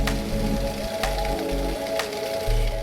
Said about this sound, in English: So just mix this up until it becomes more of a liquid.